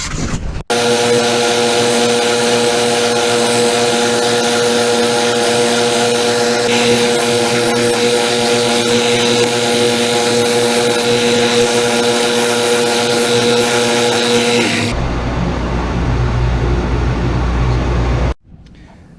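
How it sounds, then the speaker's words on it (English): A power sander whines steadily and loudly on wood for a turkey call box for a long stretch, then cuts out and winds down near the end. "I just like to work them on this sander. It'll save you a little bit of time, but let me start sanding it."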